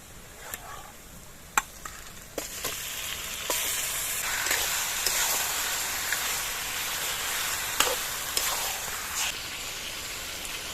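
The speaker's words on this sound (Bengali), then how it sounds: "এবার আমি আগে থেকে যে মাংসটা রেখেছিলাম সেই মাংসটা দিয়ে দিচ্ছি।" Meat tipped into a pan of deep-fried reddened onions, bursting into a strong steady sizzle with sharp clatters of a spoon stirring against the pan, close and continuous, no talk.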